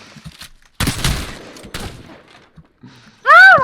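Gunfire from a weapon in a video game: a couple of loud, sharp bursts with short decaying tails and scattered softer clicks, then a rising whooshing tone at the end.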